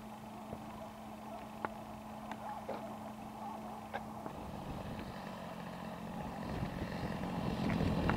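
A radio-controlled Extra 300 model airplane on its first flight comes in to land, its faint motor hum swelling gradually louder and closer over steady outdoor background noise.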